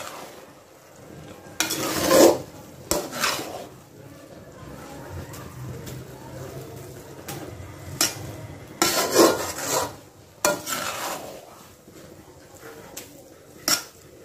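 Mint vermicelli cooks in a pan on low heat, soft continuous sizzling broken by bursts of scraping as it is stirred and turned, with metal clinks at intervals.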